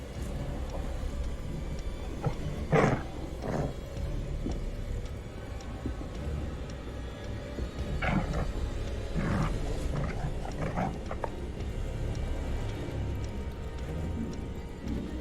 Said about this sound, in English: Of course you can hear the dog.